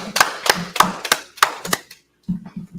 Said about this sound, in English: Hey, clap it up.